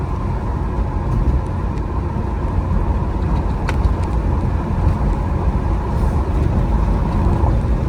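A 1968 Pontiac Firebird with a swapped 403 V8 drives along a road, a continuous loud low engine drone with a faint steady whine heard from inside the car.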